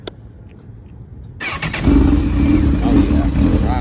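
A Honda CB1000R motorcycle fires up after quiet handling noises, its engine catching with a sharp burst and then revving hard and loud at close range, settling into a strong sustained roar with rising and falling throttle blips.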